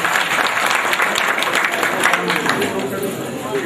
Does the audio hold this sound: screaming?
no